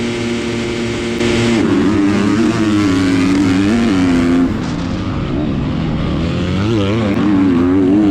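Motocross bikes race at the Halfmoon MX night race in Jacksonville, their engines loud and close with continuous high revving that rises and falls through gear changes for the whole stretch.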